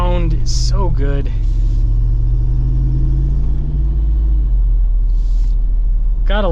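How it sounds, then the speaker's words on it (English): A 2025 Jeep Wrangler Rubicon 392 V8 idles with a deep, steady low rumble, loud and close throughout, while a person talks over it at the start and end. "Gotta love the deep rumble, the V8."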